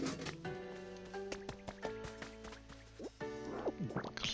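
Pokemon character drinking in the video game Pokopia, a few liquid drips and sips over layered game music, with no talk.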